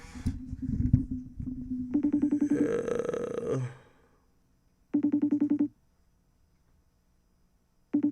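A phone call rings out unanswered, its electronic ringback tone sounding in steady pulsed bursts separated by silent gaps, after an opening stretch of noisy handling.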